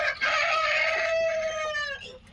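A desi rooster on a farm crows once in a long, loud, close call that trails off, with no talk over it.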